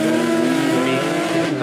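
A Genesis Coupe and another drift car run tandem at a D1 Lights event in Mobara, Japan, engines roaring loud and steady with tire squeal blended in.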